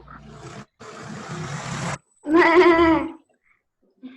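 Breathy noise, then a short, shaky bleat-like cry from a human voice imitating a sheep, close up, followed by silence.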